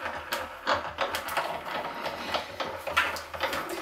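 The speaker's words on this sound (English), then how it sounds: "I've got my pine cone die, and I'm just going to run it through the machine" A Tonic Studios die-cutting machine rolling a pine cone die through, producing a continuous mechanical whirring and grinding with irregular clicks and rattles, fairly close, with no speech.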